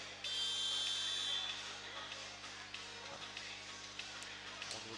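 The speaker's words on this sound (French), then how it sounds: "On est au buzzer." An end-of-period buzzer sounds at a handball-style international match, Angola against Switzerland. It gives a loud sustained electronic drone for over a second, followed by arena crowd ambience.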